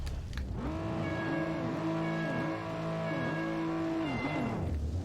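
An orange Toyota Supra in the racing game Juiced gives a steady engine drone whose pitch climbs and drops through repeated gear changes, loud and close with no one talking.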